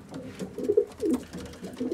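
Pigeons cooing inside an aviary, soft low rolling coos repeating in short bursts close by, with no voices.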